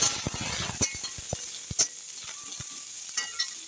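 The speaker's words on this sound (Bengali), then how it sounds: "প্রথমে দিয়ে দিচ্ছি গাজর, একটু নাড়িয়ে নেব।" Carrots frying in a pan for vegetable soup, stirred with a spatula: close, repeated scraping strokes over a soft sizzle, with a few sharp clinks against the pan.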